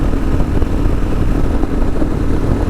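A Kawasaki KLR motorcycle cruises on a highway around 120 km/h, its single-cylinder engine holding a steady mid-range drone beneath heavy, constant wind rush, loud and close.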